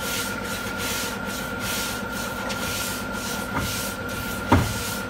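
Rhythmic back-and-forth strokes of block sanding on a Toyota Camry body panel before primer, a steady close abrasive rasping that repeats evenly over several seconds, with a light knock near the end and no voices.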